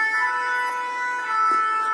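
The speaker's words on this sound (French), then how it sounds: "5 minutes après, encore d'autres sirènes." Emergency vehicle sirens wail on a road, a steady tonal wail with faint sweeping pitch, moderately distant and heard alone without speech.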